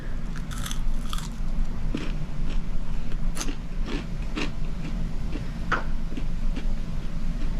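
An air-fried taquito is bitten and chewed up close, giving a run of crisp crunches and crackles over steady low background noise, with no talking.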